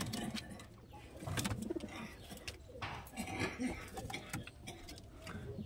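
Golden Rampuri pigeons coo in soft, repeated low calls, close by, with rustling and wing patter among the birds and someone talking over them.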